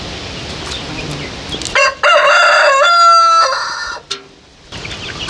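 A rooster crows loudly and close by, one long drawn-out call, with clucking from chickens before and after it. Turkey chicks and chicken chicks of several ages are nearby.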